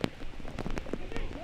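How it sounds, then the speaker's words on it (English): Rain pours steadily over an outdoor college men's soccer match between Eastern Florida State College and ASA College in Miami, a dense hiss with scattered patters, while voices talk through it. "Rain really picking up now."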